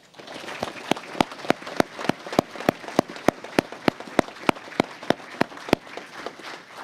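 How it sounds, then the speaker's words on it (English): At a Masonic district presentation, one person claps in a fast, steady beat, roughly twenty crisp, close claps over a soft background murmur of further hands. "Let's all give Brother Tim and Jackie a round of applause"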